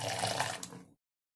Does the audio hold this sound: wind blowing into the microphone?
no